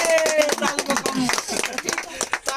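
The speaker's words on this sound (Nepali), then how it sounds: "ताली ताली एकदम ताली" A crowd at a child's fourth birthday party claps in quick, uneven bursts while voices chatter and call out loudly over the applause.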